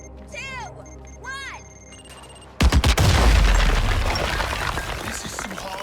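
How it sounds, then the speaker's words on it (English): A placed explosive detonates in the Suicide Squad: Kill the Justice League video game, a sudden loud blast with rumbling debris and crackle that follows a few whooshing game sounds and sustains for several seconds. "I placed my explosive. Watch out for the explosion!"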